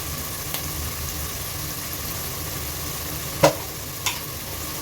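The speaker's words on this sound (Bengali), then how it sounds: "পেঁয়াজটা সামান্য ভেজে নিচ্ছি, খুব বেশি ভাজবো না।" Onions fry lightly in a pan for beef tehari, a steady soft sizzle close by with a couple of sharp utensil clacks.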